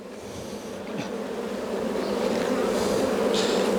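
Honeybees buzz loudly and steadily around an open hive as a frame is lifted out, a dense continuous drone that swells slightly and stays close throughout.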